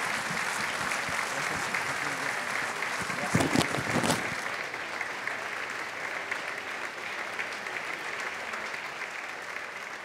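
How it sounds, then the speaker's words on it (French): Audience at a film festival award ceremony applauding the winning film team, sustained dense clapping throughout with a brief louder burst of nearby claps in the middle. "on peut les applaudir encore une fois"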